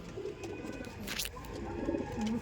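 Andhra Madrasi pigeons in a loft give low, soft coos, a few short bursts under steady background noise, with a brief higher chirp midway; no talking.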